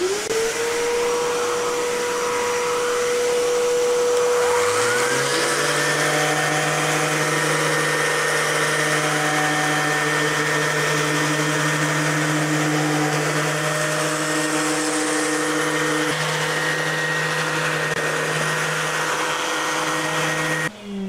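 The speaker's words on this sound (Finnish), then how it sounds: "Pannaanpas imuri päälle, mulla on liitetty tuolta tuo letku tänne imuriin." A shop vacuum, hose-connected to a woodworking sander used on a birch plank dining table, spins up after a few seconds into a loud, steady motor whine with a droning hum that runs on unbroken.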